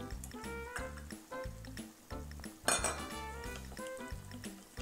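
Potato starch is stirred into water with a spoon, giving a string of close, rhythmic clinks and taps against a small bowl or cup, with a brief louder knock partway through.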